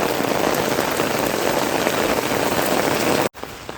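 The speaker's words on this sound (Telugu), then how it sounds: "ఫుల్ వర్షం అనమాట." Heavy rain pours down in a dense, continuous hiss of drops striking surfaces, loud and steady, before cutting off abruptly near the end to a quieter rain.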